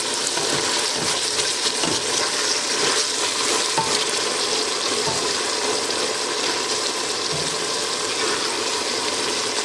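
A spoon scrapes sauce stuck to the bottom of a cooking pot, a steady close scratching under a constant sizzling, bubbling simmer, with no one talking.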